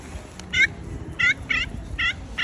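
A bird gobbles like a turkey in four short, loud bursts spread across a quiet background, with no talking.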